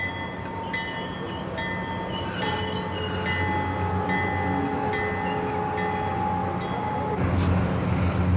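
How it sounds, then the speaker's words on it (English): Amtrak's San Diegan, train 576, pulls out of the station with a steady rolling rumble and sustained tonal whine, wheels clicking periodically, close and continuous. "Train 576, the San Diegan, departs the station for its 2-hour and 30-minute run to San Diego."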